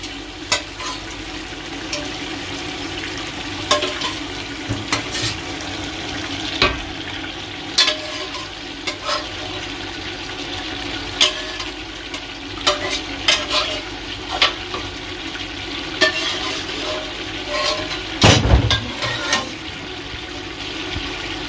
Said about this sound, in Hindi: गोश्त डाल दिया जी सारा। अभी गोश्त को अच्छे से हम लोगों ने फ्राई करना है।